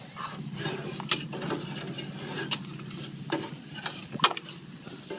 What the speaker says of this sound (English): So I'm going to stir this a little bit more